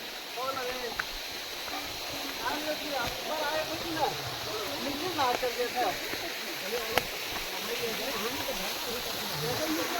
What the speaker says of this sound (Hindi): देखिए झरना की आवाज़ें आनी शुरू हो गई है।